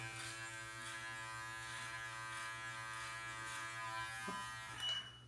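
An electric beard trimmer fitted with a 2 mm guard buzzes steadily and close, trimming a ten-day beard, a continuous hum that lasts throughout before a brief knock near the end.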